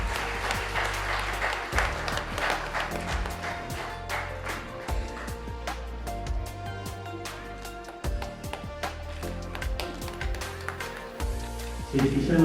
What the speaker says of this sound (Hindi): कृपया तालियां बजती रहें।